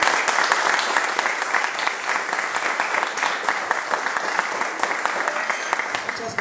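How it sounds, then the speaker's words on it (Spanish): A lecture audience at a conference in La Laguna gives speaker Rafael Barajas, the Fisgón, a loud, dense wave of applause that holds steady and close throughout, with no voices over it. "Recibamos con un fuerte aplauso a Rafael Barajas"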